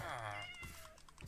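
A cat meows in the game Minecraft, Bedrock edition, near an iron farm: one drawn-out, clear meow fills the first half-second, followed by softer game sounds and faint background noise.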